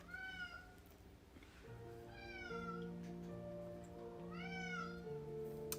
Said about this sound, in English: The meowing is pretty darn loud too